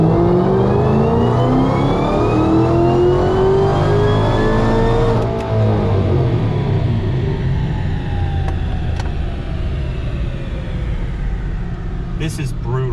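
A supercharged 2012 Shelby GT500 V8 pulls hard in 4th gear, loud and close with a rising whine and engine note for about five seconds before easing off and droning on steadily.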